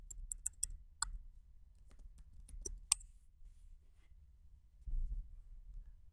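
Crisp computer mouse clicks, several quick single clicks close and quiet over a faint low hum, scattered irregularly through the first three seconds, then a soft rumble later.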